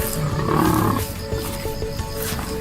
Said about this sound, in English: The combined roar of the pride can now create a remarkable acoustic effect.